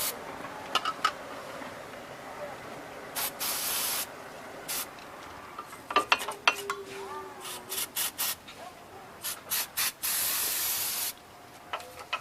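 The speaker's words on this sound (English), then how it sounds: "Some more brake cleaner." Brake cleaner sprayed onto the front brakes of a 2002 Honda Civic GX in repeated hissing bursts, short squirts and a couple of longer blasts, close and sharp, with scattered clinks of handling between.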